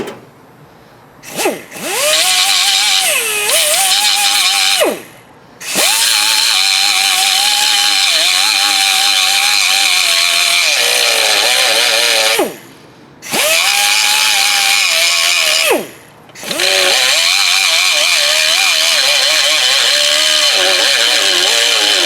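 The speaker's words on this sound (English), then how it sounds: "I just took an 80 grit Roloc flat sandpaper disc to it and blended it in." A TH400 transmission casting is ground with an 80 grit Roloc flat sanding disc on a power tool, giving a loud, sustained high-pitched whine in long runs broken by three brief pauses.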